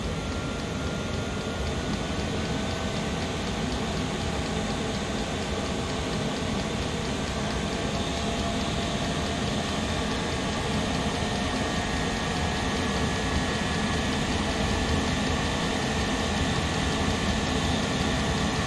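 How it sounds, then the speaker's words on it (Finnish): An electric pump motor on a homemade thermostat setup runs steadily and loudly throughout, a continuous machine hum with no voices over it. "Ja nyt lähtee kierrokset nousemaan, niin ja pumpun teho lisääntyy."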